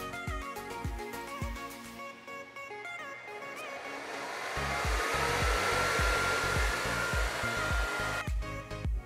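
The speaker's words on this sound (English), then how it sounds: "The spindle is cooled via a separate 12 volt fan." A separate 12 volt cooling fan on a 4.5 kW ATC spindle runs with a steady, loud whir that builds midway, while tonal electronic whines and repeated rhythmic low pulses sound alongside it.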